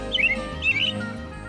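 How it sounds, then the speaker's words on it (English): An American robin sings two short, clear, warbling phrases over a low steady background hum. "American robin, permanent resident"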